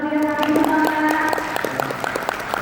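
Audience applause breaks out at a school quiz competition, with dense clapping running under a sustained tonal drone and a voice speaking over it.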